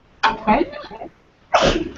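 A quick sneeze bursts out at close range, and a brief spoken word follows after a short pause.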